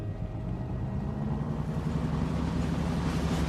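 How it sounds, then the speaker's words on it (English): Ship engines start up and build into a steady low, churning drone of rhythmic mechanical throbbing, heard alone as an old-time radio drama sound effect. "Listen, the engines are starting again."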